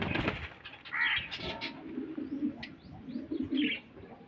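A green parrot calls in short, scratchy bursts, with a few soft coos and chirps scattered across several seconds amid faint background rustle, fairly close.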